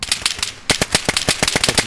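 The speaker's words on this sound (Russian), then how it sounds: "И делаешь там выстрел" Rapid gunfire in the video game DayZ, a quick string of sharp, loud shots in close succession with a brief pause, then another even burst of evenly spaced cracks.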